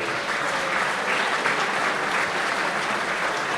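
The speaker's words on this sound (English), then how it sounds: "Let's give them one more big round of applause whilst they're in front of you," A speedway stadium crowd applauds the Redcar Bears team at a Championship meeting in Poole, a steady, dense wash of many hands clapping throughout without a break.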